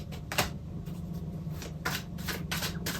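Tarot cards being shuffled close up, with repeated quick papery riffles and flutters in irregular bursts over a quiet room hum.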